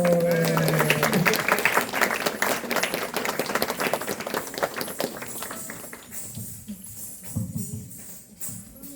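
An audience applauds during a talk on relationships, a dense patter of many hands clapping that fades over several seconds as a voice begins speaking underneath.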